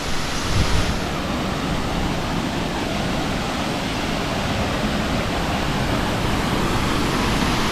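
Mayang Falls in Trece Martires, Cavite roars as a continuous, dense rush of falling water, loud and close with no breaks from start to finish.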